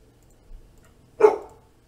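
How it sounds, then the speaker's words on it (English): A single sharp dog bark, fairly close and loud, following a faint soft sound in an otherwise quiet indoor room. "my dog is protesting"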